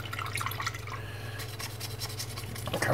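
A paintbrush is swished and rinsed in a pot of water while miniature painting, giving soft close splashes and drips over a low steady hum.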